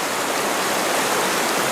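Broad, steady rushing of the Partridge River flowing close by, a dense continuous wash of water noise with no voices.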